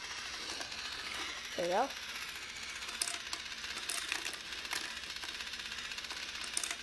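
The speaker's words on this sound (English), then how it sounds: "There's a little switch here that it turns on the elevator and all kind of stuff." A battery-powered marble run elevator switched on, giving a steady mechanical ratcheting and clicking with small tick-like knocks, fairly faint, with a brief spoken phrase early on.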